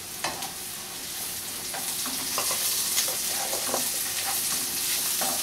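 Green chilies added to softened onions frying in a pan for a sorrel chicken curry, with a steady close sizzle and scattered scraping clicks of a spoon stirring, no voices.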